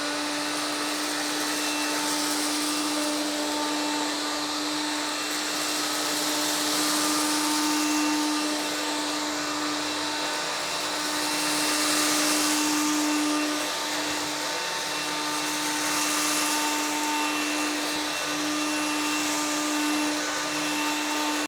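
An Electrolux cordless vacuum cleaner sucks up oatmeal, its motor giving a steady high whine with a strong constant tone, swelling slightly as it sweeps over the spilled flakes, close and continuous with no voices.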